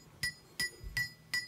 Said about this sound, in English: Now for most of this work, I'm just using a claw hammer.